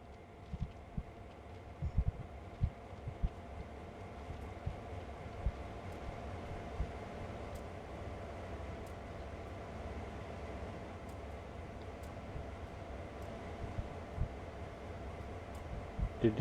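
A diesel locomotive idling in the Train Sim World 2 game at a switching yard on Sand Patch Grade, a low steady engine rumble with faint irregular knocks and clicks, no talk.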